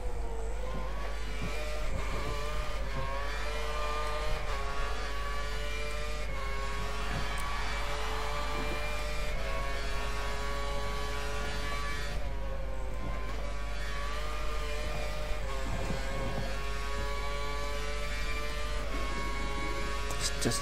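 F1 race car engine in the F1 2013 video game during Australia qualifying, a steady high-revving whine with shifting pitch as gears change down, loud and continuous throughout with a constant low hum beneath.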